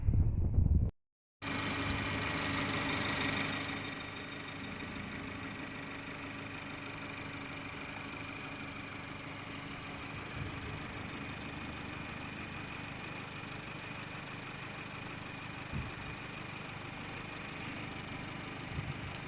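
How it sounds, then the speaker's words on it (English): A petrol engine in a 2019 BMW M135i xDrive idles steadily under the open bonnet, a smooth, even hum heard up close and alone after a brief opening burst and short cutout. "It's a very smooth petrol engine."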